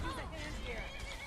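A horse in the fantasy video game Skyrim whinnies briefly amid dense game sound effects and music, with someone talking over it throughout.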